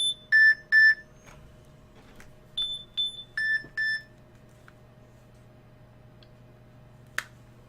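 A phone alarm beeps in short bright pairs, two quick doubled tones followed by a pause and then two more pairs, clear and close against a quiet background.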